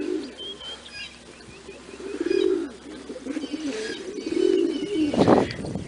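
Pigeons cooing at a loft, low throaty rolling coos repeating close by, with a few faint chirps and a brief rustle near the end, no talking.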